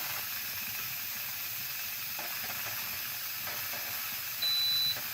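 A faint electronic beep tone from a Nesco canner signals the end of water bath canning of pickled onions, sounding near the end over a steady hiss of venting steam.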